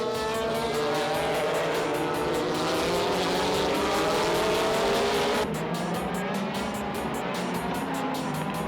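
Toyota Supra, Nissan Skyline and Honda NSX race cars roar past on a circuit, engines rising and falling in pitch as they pass close and loud, one continuous surge of racing noise.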